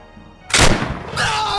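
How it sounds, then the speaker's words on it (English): A musket shot as a sound effect for an American Revolutionary War ambush, with one loud booming blast and a rumbling tail ending in a second thump. "When the redcoats appeared on the road, the old man stepped out and fired."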